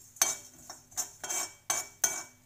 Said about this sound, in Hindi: ये देखिए तिल का आवाज आ रहा है